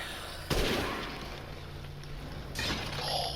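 Gunfire in the Resident Evil Village video game, a sharp loud shot at the start followed by a lingering tail, then a second shot near the end, over quiet background.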